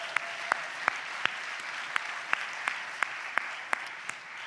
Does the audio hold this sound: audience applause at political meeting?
yes